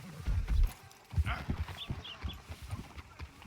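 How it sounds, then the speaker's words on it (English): Horse hooves clip-clopping at a steady walking pace in the video game Red Dead Redemption 2, fairly close and clear, with little else around them. "posso amarrar meu cavalo aqui?"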